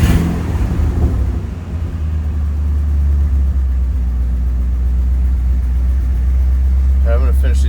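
A Ford F-250 engine running smoothly after a misfire repair, with a steady low idle rumble that rises briefly with a touch of throttle, close and loud throughout.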